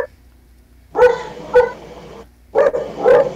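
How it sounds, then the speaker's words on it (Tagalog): A dog barks four times, in two quick pairs, loud and close with short gaps between them. "Ingay ng aso."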